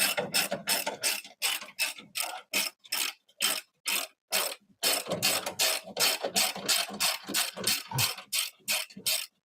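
A ratchet wrench tightens a part during race car prep, clicking in quick close bursts of sharp pawl ticks, a brief pause between sets of strokes.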